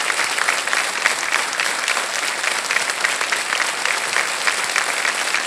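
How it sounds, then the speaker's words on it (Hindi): Loud, sustained applause from a TV game show studio audience, dense and even throughout with no pauses. "तालियां बजते रहे"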